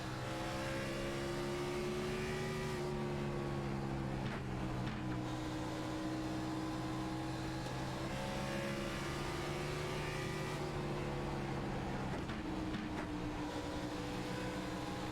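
Race cars circling the Bristol oval in a racing video game, a steady unbroken engine drone with shifting pitch as the pack runs, heard alone without voices.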